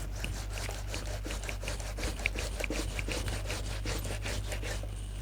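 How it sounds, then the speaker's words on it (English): A very sharp hand grater scraping with quick, steady rasping strokes, roughly two per second, heard close and alone over a low background hum. "this grater is very sharp, so please be mindful of it"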